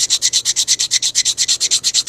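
Hand sanding with 120 grit abrasive paper, a steady back-and-forth rasp of about seventeen even, loud strokes at close range, with no voices.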